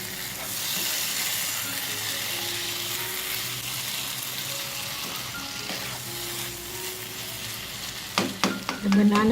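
Banana cubes for vazhakka mezhukupuratti frying in a pan, a steady loud sizzle and hiss throughout, with stirring clatter and utensil scrapes bursting in near the end.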